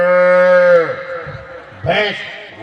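A voice imitates a calf's moo at a Holi event in Vindhyachal Nagar, giving one sustained, drawn-out bleating tone that drops off into a short rough vocal sound.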